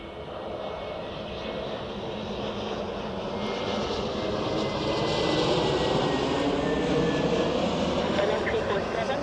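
Condor Airbus A321neo landing on runway 14 at Zurich Airport, a steady broad engine roar that swells gradually louder through the clip as the jet nears, with no pause in the rumble.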